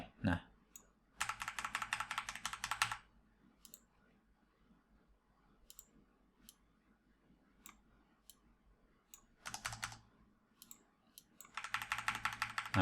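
Bursts of computer keyboard typing come through clearly, one at the start, one near the middle and one at the end, with scattered single key clicks and quiet pauses between them, during work on a VB.NET MySQL CRUD form.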